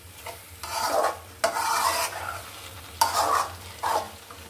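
A spatula stirs banana stem stir-fry in a hot pan, giving scraping, sizzling strokes in four distinct bursts separated by brief pauses. The sound is close and clear, with no voices.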